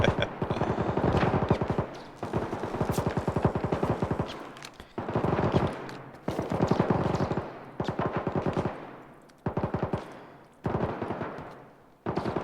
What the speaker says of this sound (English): I'd say wait for the shooting to stop